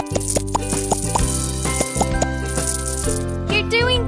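A quick series of bright popping and plinking bubble-popping sounds in a horse-grooming kids' game, several in a row, over a steady tonal background jingle, ending in a rising bubbly flourish.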